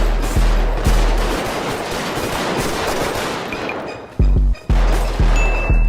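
Video game gunfire during a GTA roleplay shootout, loud bursts of rapid automatic shots followed by several separate sharp single cracks, close and punchy.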